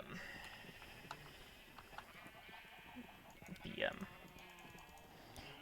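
Sheep bleating in Minecraft, a short game bleat standing out at mid-clip over a quiet background of music and faint game sounds.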